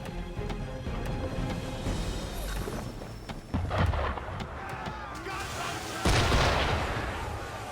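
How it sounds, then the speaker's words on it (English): Gunfire aimed at a ship in the video game Assassin's Creed 3, with loud booming shots and harsh bursts over a steady rumble of game ambience. There are sharp jumps in level near the middle and again toward the end, and voices can be heard in the scene. "Why is he shooting at us?"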